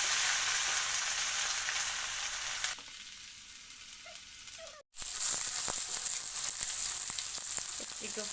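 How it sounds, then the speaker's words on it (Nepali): Chopped onion frying in oil and being stirred until golden brown for raja chyau, a steady close sizzle that drops quieter midway, cuts out briefly, then returns loud with scraping stirs. "प्याज, अब यसलाई राम्रोसँग चलाएर गोल्डन ब्राउन हुनेसम्म यत्तिकै छोड्नेछौँ।"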